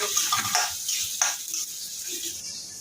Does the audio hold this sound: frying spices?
yes